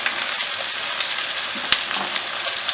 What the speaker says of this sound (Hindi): अब टमाटर के साथ हम इसको मज़ीद 2 मिनट पकाएंगे।